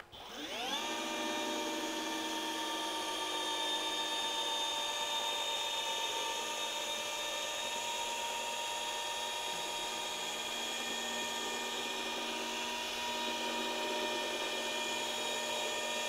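A car polishing machine spins up to a higher speed while buffing paint, giving a steady, close mechanical whine that holds nearly constant once it has ramped up.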